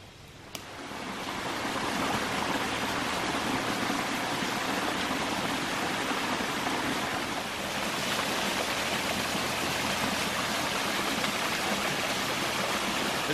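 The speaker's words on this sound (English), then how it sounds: "There's a beautiful little waterfall right on the other side of my hammock there that I can listen to all night." Steady rushing water pours without a break, a dense even hiss of a small waterfall close by along the Manistee River in Michigan, with no voices.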